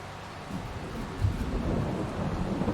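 Steady rain with a low rumble of thunder swelling midway in the farming video game Griffin Indiana, a dense, continuous wash with no talking.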